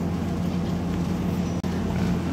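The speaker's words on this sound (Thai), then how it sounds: "ครับเรือกำลังจะออกครับ" A boat engine drones steadily and loudly as the boat departs a pier on the Bang Nara river, a continuous low rumble with water and wind noise and no talk.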